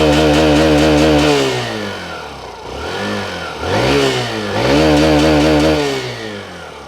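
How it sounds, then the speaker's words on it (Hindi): A Hero Glamour XTEC 125cc motorcycle engine running close by, revving up and easing off in repeated swells with a steady buzzing mechanical drone underneath. "तो कैसी ये आवाज़ करता है, इसका जो इंजन है 125 सीसी का"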